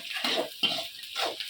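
Onion, green chili, curry leaves and chana dal fry and get stirred in a pan, giving three soft scraping, sizzling strokes in a steady rhythm, close and moderately loud with no voices.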